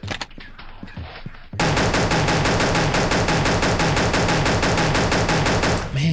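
Rapid automatic gunfire in Pixel Gun, a fast steady stream of loud shots that kicks in after a brief stretch of quieter game sounds and runs without a break, up close.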